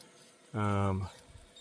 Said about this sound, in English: Don't know what that beeping means. It's obviously coming from the inverter.